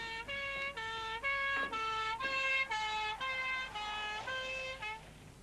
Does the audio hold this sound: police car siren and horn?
yes